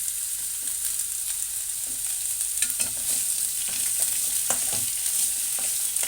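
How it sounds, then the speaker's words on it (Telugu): Sliced onions with salt fry in a pan, giving a steady, close sizzle broken by occasional scraping stirs. "ఉప్పు వల్ల ఉల్లిపాయలు కూడా వేగుతాయండి"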